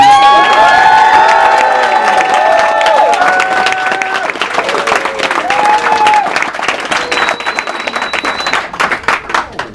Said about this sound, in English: before you stop clapping